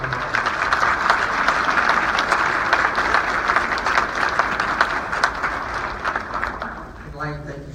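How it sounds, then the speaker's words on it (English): Banquet audience at a fraternity scholarship dinner breaks into sustained, dense applause that fills the room steadily and then tapers off near the end, with a bit of voice coming through as it fades. "Let's all make sure that we give one more big round of applause for David and Sherry Morgan."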